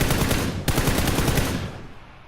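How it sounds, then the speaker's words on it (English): Full-auto gunfire in PUBG on PS4 hits as one loud, rapid burst of shots at a steady rhythm, close and dense, then fades in a short echoing tail. "you start firing"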